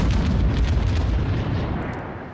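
Heavy naval gunfire from the cruiser USS Pensacola in World of Warships: a loud, dense booming blast that fills the clip and slowly tails off, with no talking.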